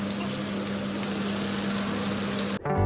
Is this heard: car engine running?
no